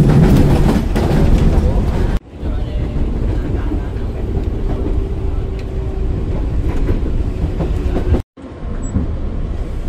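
A KRL commuter train rolls into Tebet station, giving a loud steady rumble and rail roar heard from inside the car, with faint wheel clatter, a brief dip in the noise partway through and a low voice underneath.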